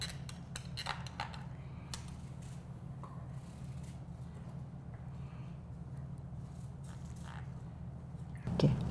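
Knife trimming the edge of a pie crust in a community kitchen, quiet scattered taps and light scrapes against a low room hum, ending with a slightly louder clatter.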